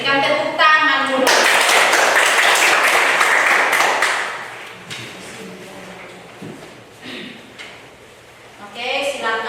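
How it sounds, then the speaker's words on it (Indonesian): A class applauds together, a burst of dense clapping that swells early and then thins out into scattered claps, with voices speaking before and after it. "Berikan tepuk tangan dulu"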